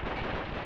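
Machine gun fire in the World War I shooter Verdun, a brief, dense, continuous roar of rapid shots at close range.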